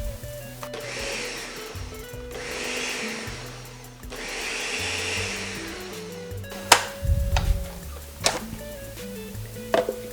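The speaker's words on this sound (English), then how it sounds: "We're going to pulse this a few more times so it makes a nice dough for us." A food processor pulses dough for ration bars in three loud whirring bursts, then falls to rattling and clunking as the bowl and blade are handled up close.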